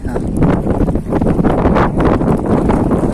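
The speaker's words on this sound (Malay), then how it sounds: "Sore angin makin kencang." Strong afternoon wind at a seaside fishing spot near a fish market, a loud continuous rushing buffet across the microphone with gusty swells throughout.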